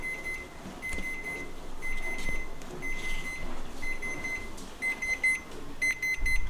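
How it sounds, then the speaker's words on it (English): A kitchen timer goes off while cakes bake, its thin, high electronic beeps repeating in short bursts that quicken into rapid clusters toward the end over a quiet room hum. "Okay, timer's going off,"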